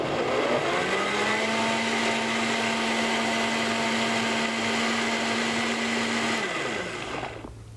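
A blender whirs steadily at high speed through a warm cornstarch mixture, one loud continuous drone with a constant pitch that drops away as the motor is switched off near the end.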